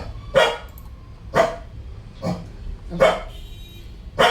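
A dog barks repeatedly indoors during a lecture on hormones in pregnancy, five sharp barks about one second apart, fairly near, over low room noise. One brief word is spoken.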